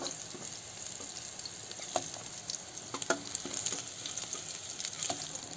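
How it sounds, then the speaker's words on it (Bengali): Soya chunks fry in hot oil with a steady close sizzle and crackle, and a few sharper pops and spatters stand out above the bubbling. "এই দেখেন সয়াবিন কটা ভালো করে ভেজে নিছি"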